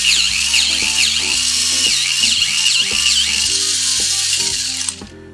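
A Mini 4WD B-MAX toy car's small electric motor and gears whir steadily at close range, a high buzzing drive noise that holds even, shifts pitch in small steps, and cuts off abruptly near the end.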